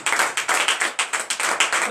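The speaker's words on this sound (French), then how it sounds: "Donnez l'acclamation à l'Éternel." Church congregation clapping in steady, rhythmic unison during a French-language morning prayer service in Benin, the claps loud and close with about four per second, no voices over them.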